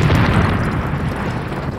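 A Big Bang explosion sound effect, a loud, deep, sustained booming rumble that fills the whole moment and slowly eases, with no speech over it.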